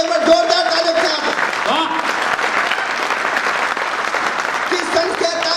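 Loud, dense applause from an audience at a Hindi poetry recital for a young poet, sustained clapping filling the room, close, with a voice briefly heard at the start and end.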